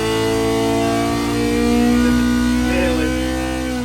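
A 1200 engine runs hard on a dyno while it takes in a large volume of air. It makes a loud, steady, close-up drone that swells slightly in the middle.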